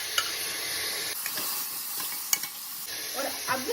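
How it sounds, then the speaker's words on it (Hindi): Spice masala with diced tomatoes, turmeric, red chili powder and garam masala frying in oil, a close, steady sizzle and hiss that drops away briefly midway, with a few sharp spatula taps and stirring scrapes. "और अब हमें इस मसाले को भूनना है ऑयल रिलीज होने तक।"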